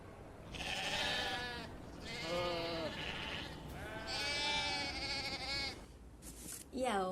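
Sheep bleating in a children's story, several long wavering bleats in a row, close and fairly loud, with a brief higher sound at the end.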